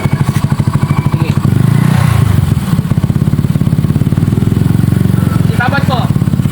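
A 160cc motorcycle engine revving through a muffler with a dB killer, loud and close, a steady throbbing exhaust that rises into a higher rev and holds, with voices faintly underneath.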